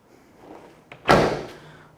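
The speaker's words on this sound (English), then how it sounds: "Door shuts nice" A single solid thud of a 1984 Chevrolet Camaro F41's door shutting nearby, preceded by a faint click and some low background hum.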